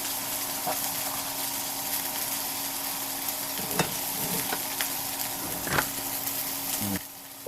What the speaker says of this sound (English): We're using a neutral oil to get an initial hard sear after sous vide